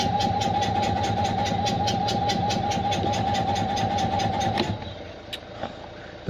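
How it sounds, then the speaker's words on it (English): Electric fuel pump on a 1972 Invacar Model 70 ticking rapidly and evenly over a steady whine, loud and close, for several seconds before cutting off abruptly, leaving quiet background with a couple of faint knocks. "The fuel pump is working,"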